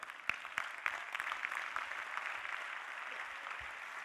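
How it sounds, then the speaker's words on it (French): An audience at a conference talk on conducting an orchestra applauds a volunteer, a steady wash of many hands clapping that holds evenly, moderately loud and a little distant, with no talking. "on peut l'applaudir s'il vous plaît"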